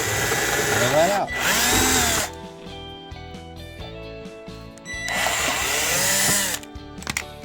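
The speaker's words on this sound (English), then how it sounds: "So simply drill that out." A power drill bores through a metal piece for a chainsaw carrier on a tractor fender, two loud whining bursts separated by a quieter pause, close to the microphone.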